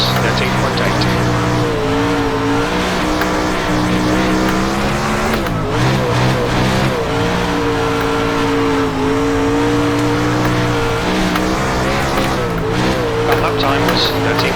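A World of Outlaws sprint car on the Lanier track in iRacing, its engine droning loud and steady with the pitch rising and dipping as the throttle is worked, continuous throughout with a voice over it.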